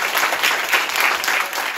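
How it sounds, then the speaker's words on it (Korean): Audience applause at a climate crisis lecture, a brief burst of steady, moderately loud clapping from the room. "박사님께 다시 한번 박수 한번."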